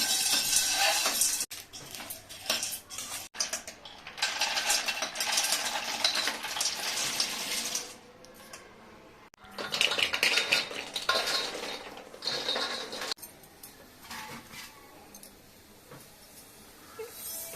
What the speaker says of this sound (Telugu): ఇప్పుడు గుమ్మడి గింజలను వేయించుతాను